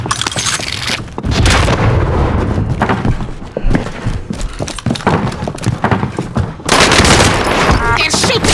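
Enemy gunfire in Call of Duty Warzone: a dense fusillade of game shots and booms, loud and close, coming in bursts over roughly eight seconds with a brief lull midway.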